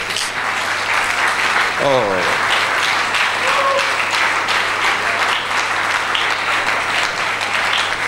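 A church congregation applauds steadily and loudly for several seconds during a worship service, the clapping dense and continuous while a voice briefly exclaims over it.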